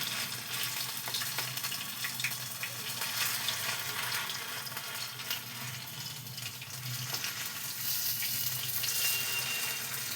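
Fritters of cabbage leaf, shrimp and lentil fry in hot oil, giving a steady, close crackling sizzle that runs unbroken throughout with faint clatter now and then.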